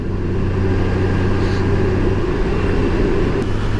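Honda Goldwing 1800 motorcycle cruising on an evening ride, a steady loud low engine drone with wind rush, continuous and close with no talk.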